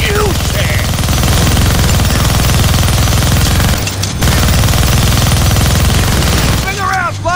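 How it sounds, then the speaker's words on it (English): Minigun blazing nonstop in the Deadpool video game, a loud, dense mechanical roar of rapid-fire shots sustained throughout, briefly dipping once, with faint whistling effects near the end. "You're gonna need both hands to shoot that minigun."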